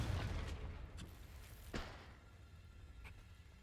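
A Confringo spell from the video game Hogwarts Legacy bursts into a booming explosion that trails off into a rumbling decay, with a few smaller crackling pops afterward, fairly quiet overall.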